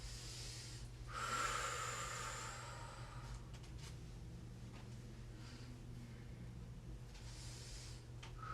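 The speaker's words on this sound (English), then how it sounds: "I'm breathing a little extra here because this left side is extra tight for me" Heavy, drawn-out breaths and a snort-like exhale come from a person foam rolling a tight left IT band, quiet and close over a low steady hum, with no speech.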